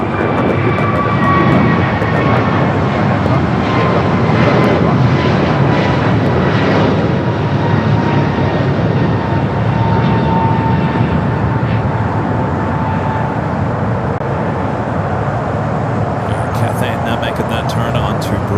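Airliners at LAX airport, including a United heavy jet, make a continuous loud engine roar from taxiing and departing aircraft, with a voice talking over it throughout.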